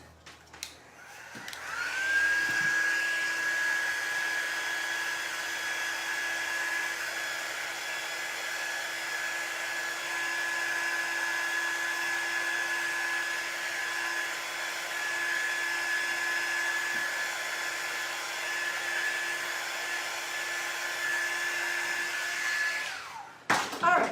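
A hair dryer runs at a steady, loud, whirring roar for over twenty seconds while drying paper lunch bag gingerbread house windows. It switches on with a brief rising whine and cuts off at the end.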